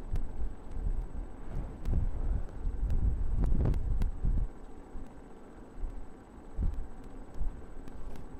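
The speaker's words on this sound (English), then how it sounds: "Lots of wind." Strong wind outdoors buffeting the microphone, a steady low rumbling roar with gusty swells that rise and ease, ending with fainter buffets.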